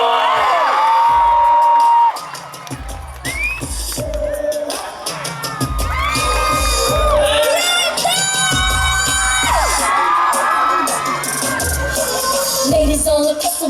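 A large crowd at the Barrio Fiesta sa London 2016 cheers, whoops and yells, with children shouting and music running underneath; the din stays loud and continuous, with voices calling out throughout.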